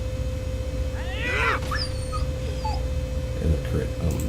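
Guard dog in a video game whimpering and whining, with rising cries and yelps in the middle over steady game background noise and music.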